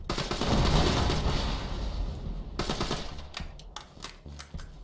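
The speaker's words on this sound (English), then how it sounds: "Somebody's down here shooting." Borderlands 2 gunfire crackles as a dense, continuous stream of rapid shots, with sharp separate bursts following.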